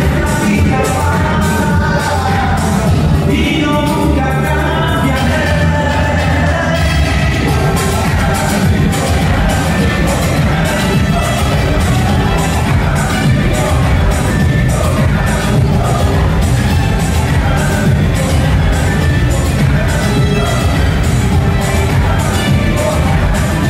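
An audience at a ballroom dance event at 1st Baptist Jonesboro, where the Samba Queen returns, keeps up loud, sustained crowd noise with cheering and steady rhythmic clapping.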